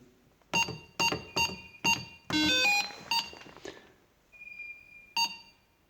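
A burglar alarm's exit delay sounds: a series of loud electronic beeps at a steady pace, then a longer continuous tone, a softer faint beep, and one final beep, close and clear.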